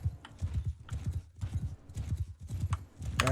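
An armored horse gallops in Mount and Blade 2 Bannerlord, heavy rhythmic hoofbeats pounding close and loud in fast repeating clusters, with a brief sharper sound at the end.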